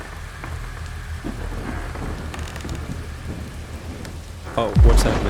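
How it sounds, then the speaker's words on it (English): Rain pours steadily with low thunder rumbling through a stormy scene in the game Self Delusion, and near the end a sudden loud, close thunderclap cracks and booms. "Oh, am I getting rained on?"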